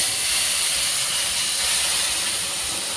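Boiling water is poured over semolina for a traditional rava dish, producing a loud, continuous, close-up hiss of steam that holds steady for a few seconds.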